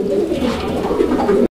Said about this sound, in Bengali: বন্ধুরা আমরা এই মুহূর্তে দেখতে পাচ্ছি এখানে আরো এক জোড়া কবুতরের কালেকশন রয়েছে।